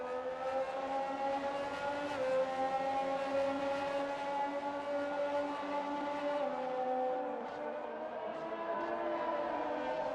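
A Haas Formula 1 car's engine in a racing video game at the Mexico round, a steady high-pitched whine with sustained tonal harmonics that shift slightly in pitch, moderately quiet and with no voices.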